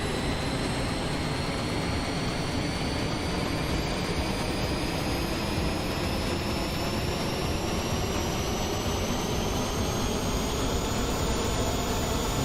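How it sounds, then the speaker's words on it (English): An Airbus A320 APU spooling up in Microsoft Flight Simulator, a steady loud jet whine with a slowly rising tone over a constant roar, continuous and close. "APU's firing up"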